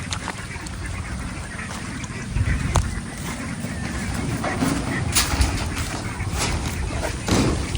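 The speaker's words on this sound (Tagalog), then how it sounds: "ilagay na natin sa kainan ng mga itik" Ducks quacking and honking around their feeder on a farm lot, a busy cluster of calls over rustling and feeding noise, with a voice talking in the background.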